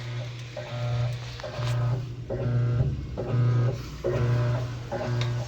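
A General Electric washing machine runs with a fault that leaves it washing without agitating, giving a steady motor hum broken by repeated grinding pulses about every second, loud and close with no talking.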